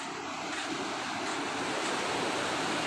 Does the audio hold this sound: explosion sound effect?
no